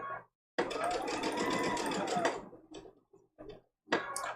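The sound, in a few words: sewing machine stitching a quilt block seam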